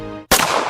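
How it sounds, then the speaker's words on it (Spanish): A single sharp, loud Star Wars film blaster gunshot sound effect cuts in abruptly after a brief silence, followed by a dense, noisy crackling tail. "disparos"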